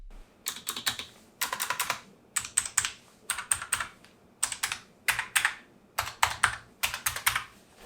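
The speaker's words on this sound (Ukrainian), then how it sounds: "трошки інший звук натискання клавіш" Bursts of clicky key presses on a Bloody B750N mechanical keyboard in quick runs, separated by short pauses, close and crisp with no voices.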